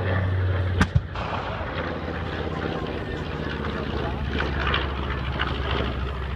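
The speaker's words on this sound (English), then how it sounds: "The thundering exhaust of the North American B-25J Mitchell Wild Cargo" A North American B-25J Mitchell bomber's radial engines roar at the 2014 Warbirds Over the Beach Airshow in Virginia Beach, a broad steady rumble of exhaust with a sharp bang early on, and a voice talking faintly over it.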